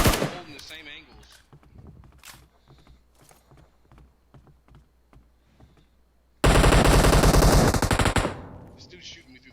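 Rapid automatic gunfire bursts through a video game shootout, starting as scattered shots and footsteps under a player's talk, then erupting into a loud, sustained volley near the end.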